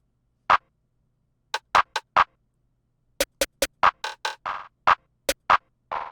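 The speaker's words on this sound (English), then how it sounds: "we have a snare and that classic plug and be rim sound, and together they're going to sound like this" A programmed snare and plugg-style rim pattern from an FL Studio dark wavy beat, with sparse, dry, sharp hits in an uneven rhythm, some in quick clusters, with nothing else playing.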